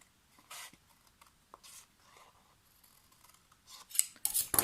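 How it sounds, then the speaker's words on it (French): Scissors snip a small paper tab for a Halloween craft box, with several soft separate cuts and then a louder, crisp cutting burst at the end, close up and without voices. "je me sers de la ligne de marquage pour venir couper bien droit mon petit onglet"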